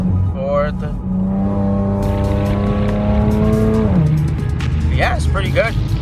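Infiniti G37x with a Soho Motorsports 3-inch single-exit exhaust, revved in gear, holding a steady droning engine note that drops away; brief squeal-like chirps follow, with someone talking over it.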